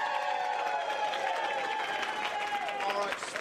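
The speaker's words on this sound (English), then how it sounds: "Can we hear a round of applause for that" An audience applauds at a Go Red for Women event, a steady moderate round of clapping from the crowd that carries on throughout.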